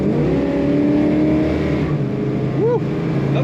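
A 1970 Plymouth Road Runner engine pulls hard and steady under acceleration, its tone dropping at a gear change before rising again, loud and close with tyre chirp near the end.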